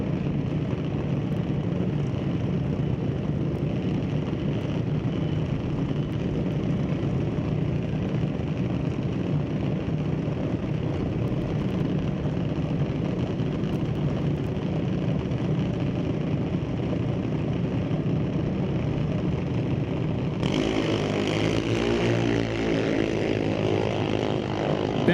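Drag race cars launching off the line at Mission Raceway Park, a loud continuous engine roar that shifts sharply about twenty seconds in as the cars pull away.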